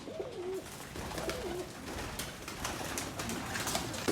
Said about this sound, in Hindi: ये लो भाइयों, छोड़ के शौक करवा रहा हूँ 20 के 20 कबूतरों का